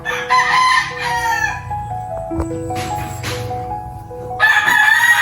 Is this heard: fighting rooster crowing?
yes